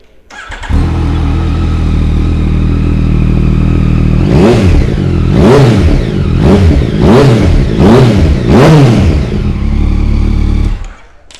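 A 2018 Yamaha XSR900 Abarth motorcycle with an Akrapovic exhaust starts and settles into a loud, close idle, then gets five sharp throttle blips in a row before the engine cuts off.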